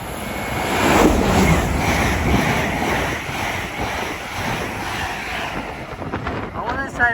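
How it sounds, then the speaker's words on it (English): A Great Western Railway IET train running from Weston-super-Mare to London Paddington rushes through Didcot Parkway station, a loud broadband roar that fades slightly before a two-tone horn sounds near the end, with wind buffeting the microphone. "Soon to come flying through now will be a Great Western Railway IET going from Weston-super-Mare to London Paddington"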